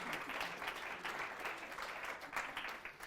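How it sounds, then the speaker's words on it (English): An audience claps at a talk on speaking Shakespeare's English, with steady, moderate applause from a crowd throughout and no voices over it. "Give them a little round of applause."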